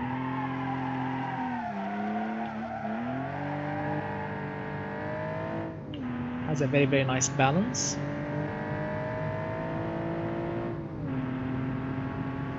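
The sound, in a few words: car engine revving while driving, from a racing video game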